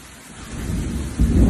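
Steady rain patters throughout, with a low rumble of thunder swelling and growing louder toward the end.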